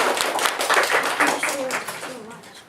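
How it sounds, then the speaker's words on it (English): A small audience gives a short round of applause after a presentation, scattered claps that peak early then fade over a couple of seconds, with voices mixed in. "round of applause"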